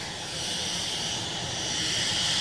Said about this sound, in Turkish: İki futbolcuyu taşıyan özel uçak